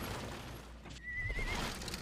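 A horse in Sonic and the Black Knight gives a single high whinny over a loud, rumbling game backdrop.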